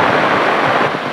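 Heavy rain pours down around a flooded village house, a dense, loud, continuous hiss of falling water and rushing floodwater with no pauses.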